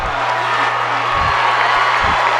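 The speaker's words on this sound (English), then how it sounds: "Huge crowd here for a high school football game in Texas, Tim." Crowd noise fills the stands at a Texas 5A-II high school football semifinal, Liberty Hill vs. Port Neches Grove: a steady, distant roar under a constant low hum, with a couple of brief swells.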